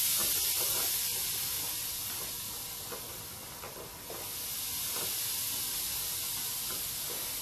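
An airbrush sprays golden airbrush paint at about 30 psi, giving a steady, close, airy hiss that dips slightly midway and then holds level, with no voices.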